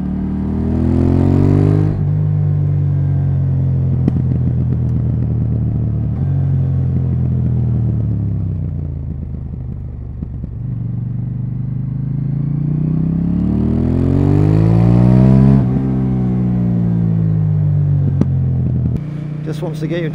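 A KTM 890R Duke with an Akrapovic slip-on exhaust revs loudly up close, rising and falling through several blips with a deep, throbbing note, then settling back to a lumpy idle between revs.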